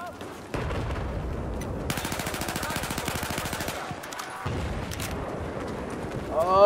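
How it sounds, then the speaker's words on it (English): Rapid automatic fire from the ACW-R rifle in Battlefield 4, a steady burst of evenly spaced close shots lasting about two seconds, with scattered battle noise and other gunfire before and after. "Now I remember why the ACWR is my favorite gun."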